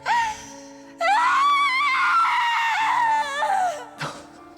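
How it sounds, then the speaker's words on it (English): A character in Tales of Arise lets out a long, loud scream, strained and wailing, with a short cry before it and a brief gasp afterward, over a quiet background hum. "It's a good scream."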